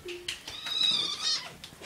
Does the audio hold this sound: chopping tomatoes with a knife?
no